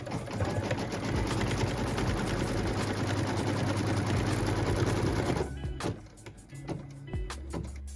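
A sewing machine runs in one steady fast stitching burst while quilt fabric is pieced, close and loud, then stops abruptly into a few soft clicks and handling knocks.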